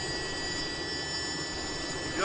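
An SA-315B Lama helicopter engine in FlightGear holds a steady droning whine with a constant high turbine tone, level and close throughout, rising slightly at the very end.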